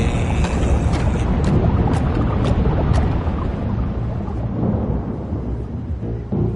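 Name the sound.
thunderstorm at sea in a video game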